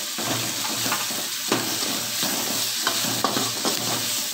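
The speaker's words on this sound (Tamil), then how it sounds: "தக்காளி நல்லா வதங்கட்டும்" Chopped tomato sautéing in a pan with cooked onion for a simple kurma, a steady close sizzle broken by several scraping stirs of a spoon against the pan.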